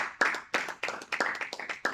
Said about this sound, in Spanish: Den fuerte palmas al Señor.